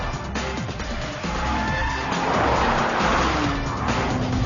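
A BMW Z4 and an Audi TT race with stability control switched off, engines roaring loudly as tires squeal and skid through a corner, with the engine pitch rising and falling.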